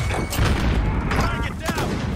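A Semtex grenade detonates in Warzone, a dense burst of blasts and gunfire-like booms filling a couple of seconds, with players talking over the chaos.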